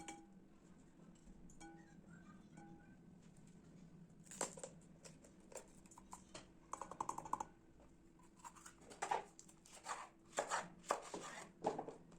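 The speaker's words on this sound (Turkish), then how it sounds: "Biberleri temizledikten sonra gelişi güzel doğruyorum." A knife chops red capia peppers on a board, first quiet and sparse, then faster and louder with irregular clustered cuts and a few light clinks, and no voices.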